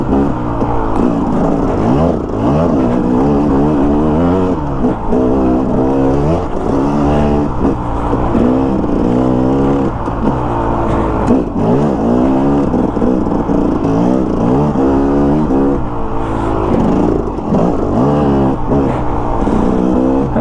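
A KTM motorcycle engine labouring through deep gravel, loud and close, with continuous revving that rises and falls as the throttle changes, alone without talk.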